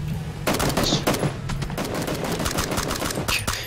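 Rapid gunfire in PlayerUnknown's Battlegrounds: a loud string of quick shots that rattles on continuously, with sharp individual cracks, and no voices present.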